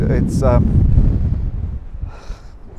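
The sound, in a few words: strong wind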